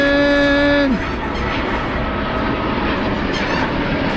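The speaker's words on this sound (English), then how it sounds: "we're watching the plane come in." An airliner comes in to land, a steady broad engine roar that holds loud and even throughout, with a brief tonal honk fading out at the start.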